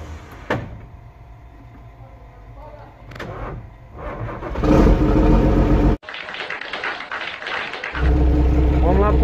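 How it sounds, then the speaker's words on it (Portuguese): A Mercedes 1113 dump truck diesel engine cranks and catches after a few clunks and knocks, then settles into a loud, rough idle that rises into revving, with brief talk nearby. "Vou ligar ela aqui agora."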